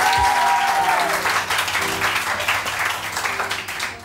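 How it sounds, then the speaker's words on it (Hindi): Studio audience applause on a morning television show, a full, continuous round of clapping that starts loud, with a brief musical sting at the start, and slowly tapers. "बहुत सारी तालियां"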